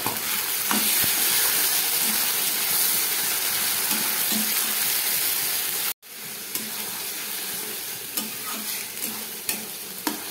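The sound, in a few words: frying spice paste with tomato for chicken curry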